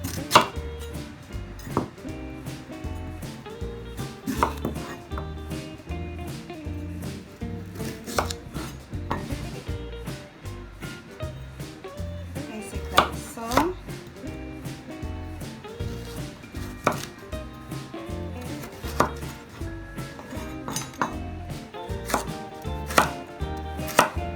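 A knife chopping food into cubes on a cutting board while a stuffed turkey breast Thanksgiving dinner is prepared, producing steady, rapid, close-up knocks in a continuous rhythm.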